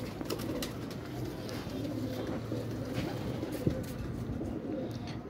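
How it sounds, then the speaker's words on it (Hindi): Pigeons coo in a loft of paired birds, with soft, repeated low calls rising over a constant background hum at close range. "ये देखें परकुंदा कबूतरी का"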